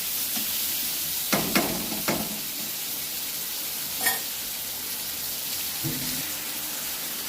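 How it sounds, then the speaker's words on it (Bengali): Potatoes fry in a pan with a low, steady sizzle, broken by a quick run of utensil clinks and scrapes early on and a couple more later. "আলুগুলো ভেজে নেব ভালো করে"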